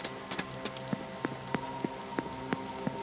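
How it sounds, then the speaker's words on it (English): Steady rain patters down in The Séance of Blake Manor game, a dense wet hiss broken by scattered sharp droplet ticks, close and continuous with no voices. "Kind of wet out here, I don't know why you're standing in the rain."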